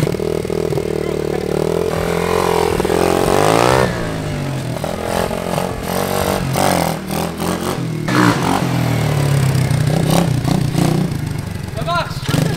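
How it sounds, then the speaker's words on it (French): A motorcycle is started and ridden nearby, its engine revving in rising and falling sweeps with clattering mechanical noise, while someone talks over it in French. "Allez on teste un petit peu la moto pour voir si ça fonctionne."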